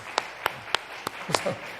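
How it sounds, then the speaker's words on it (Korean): Several sharp, separate hand claps ring out in a Korean church during a Wednesday service. They come one at a time at an uneven pace and grow into a slight murmur of voices at the end. "박수 한번 쳐주세요."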